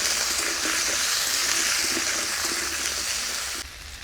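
Potato and papaya pieces fry in a pan, producing a steady, hissing sizzle at close range, continuous and moderately loud before it drops away abruptly near the end.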